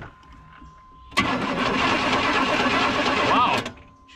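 A Camaro engine fires up abruptly and revs hard, a loud sustained roar with a rising whine near the end before cutting back to a lower idle.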